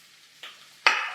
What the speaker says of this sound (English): now we got the shrimps on here. We're just gonna saute them.